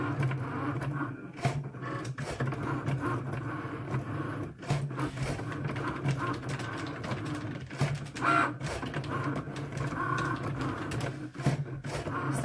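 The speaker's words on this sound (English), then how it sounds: "so it's just cutting out our snowflakes right now" Electronic cutting machine slicing paper snowflakes, a continuous mechanical whir and buzz with rapid carriage movements, clicks and short scraping bursts at close range.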